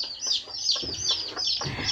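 Chickens cluck and chirp continuously at a farm hut, with overlapping bird calls close by and no talk.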